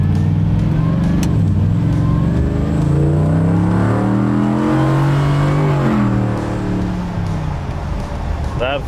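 A restored 1956 Chevy engine rumbles and revs as it drives, pitch rising and falling through gear changes, loud and close throughout.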